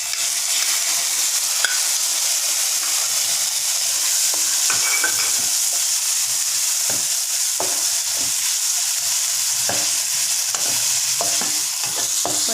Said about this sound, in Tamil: இப்போ நான் சிக்கனை போடுறேன்.